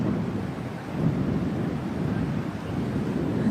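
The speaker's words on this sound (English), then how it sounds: "A couple more gusts here, Karen." Wind gusting across an open golf course, a steady roaring buffet with stronger swells, loud and close, with no talk.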